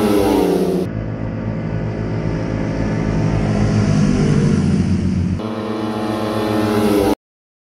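A motorcycle engine with a strong carburetor revs hard and close, a loud sustained roar that holds steady for several seconds before cutting off abruptly, with no talk over it.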